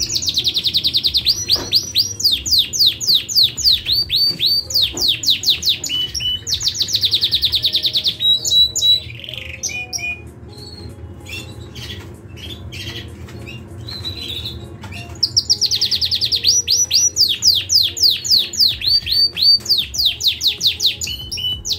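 A Rasmi canary sings close and loud in bursts of rapid trilling chirps, falls quieter for a stretch with softer calls, then returns to full rolling song.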